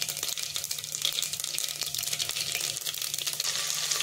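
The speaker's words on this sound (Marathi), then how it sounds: "इथे आता आपलं तेल तापलंय, त्याच्यामध्ये आपण जिरे मोहरी घालूया" Cumin and mustard seeds sizzle in hot oil, a steady close hiss with fine crackling and popping that continues unbroken throughout.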